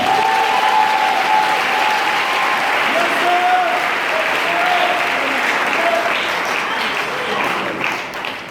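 A church congregation claps and cheers in sustained loud applause, a dense continuous roar of many hands in a reverberant hall, with a voice calling out over it.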